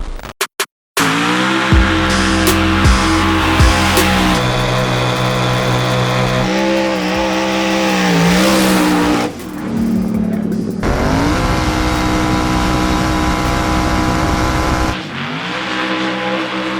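Hoonicorn all-wheel-drive race car accelerating hard with its tires overpowered, a loud, sustained engine roar with shifting pitch and squealing tires, close and dominant after a brief silent start.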